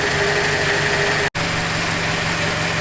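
A car engine idling during an Amsoil engine flush, a constant low rumble throughout, with one abrupt brief dropout midway; no voices.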